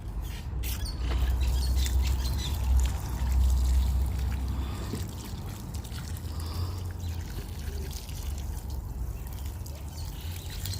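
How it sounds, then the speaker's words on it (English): Water pours and trickles steadily, nearby, with a low gurgling rumble and small splashes as plants are watered, no talking. "I'm getting water so that I can water my plants"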